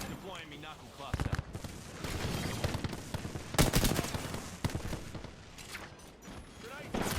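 Apex Legends firefight with bursts of gunfire and sharp impacts, mixed with in-game voice callouts and a player talking over the action throughout.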